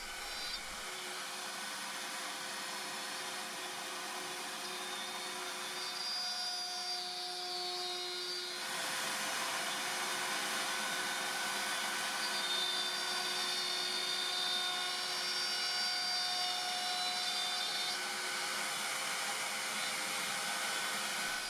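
A router spins steadily as its bit cuts a bearing slot in a wooden board, giving a loud, continuous high whine that holds evenly, dips briefly partway through, then carries on unbroken to the end.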